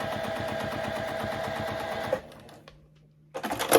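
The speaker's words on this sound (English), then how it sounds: "I just kind of hold my hands on either side of the needle just to guide the fabric through and to keep it straight on that line" A sewing machine stitches quilted fabric in a fast, even mechanical chatter, close and steady, then stops abruptly and leaves near-silence before a few clunks and a short burst of running.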